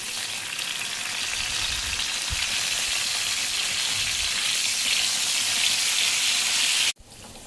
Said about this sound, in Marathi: आता आपण ह्याच्यामध्ये मिरच्या टाकून घेऊया.